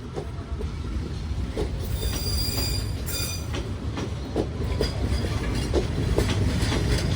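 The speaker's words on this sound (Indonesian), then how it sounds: "Sementara itu melintas lokal Bandung Raya dengan lokomotif dinas 2018325 Bandung" A Bandung Raya local train hauled by a service locomotive rolls past with a heavy, continuous low rumble and rhythmic clicks of wheels over rail joints, overlaid by thin high squealing, loud and steady throughout.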